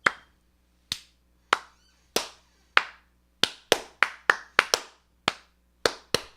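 A slow clap from an audience: sharp, separate hand claps, sparse and uneven at first, then bunching closer together in a ragged rhythm, clear and close in an otherwise quiet room.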